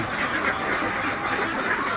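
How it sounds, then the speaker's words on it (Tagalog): Domestic ducks quack steadily at feeding time, a dense, continuous chorus of overlapping nasal calls close by. "Napakainin naman natin yung ating mga alagang itik dito."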